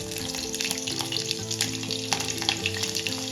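Steady, close sizzling of green chilies frying in hot oil with spluttered mustard seeds, with crackles and pops scattered throughout and no talking.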